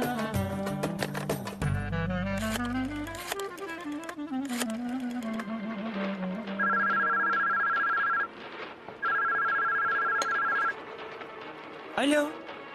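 A phone dials out and rings, with quick keypad tones followed by two repeated electronic ring bursts, then a short pause and a click as the call connects, with voices faint in the background.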